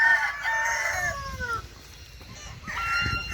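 A Gauloise rooster in a backyard poultry flock crows nearby, one full drawn-out cock-a-doodle-doo followed by the start of another call, with faint hen clucking in the background.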